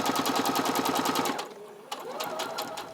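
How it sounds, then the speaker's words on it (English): Sewing machine stitching quilt squares along a drawn diagonal line, a quick rhythmic close-up chatter for about a second and a half before slowing into softer fabric handling. "And I'm going to sew right on the drawn line."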